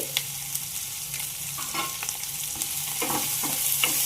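Onions fry in a pan with salt and turmeric powder, giving a continuous close sizzle broken by repeated scraping stirs of a spatula, with no talking.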